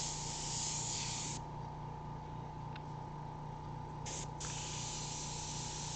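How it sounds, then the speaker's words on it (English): An airbrush sprays paint up close with a steady soft hiss, one long burst at the start, then a quieter airflow with a couple of short spurts later, over a faint constant hum. "y'all are going to get to see him airbrush. There's some airbrushing."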